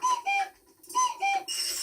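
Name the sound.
cuckoo clock calling in Peppa Pig cartoon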